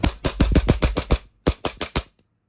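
AW Custom HX1104 short-stroke airsoft pistol firing with blowback: a rapid string of about seven sharp cracks, a brief pause, then four more, loud and close with no talking.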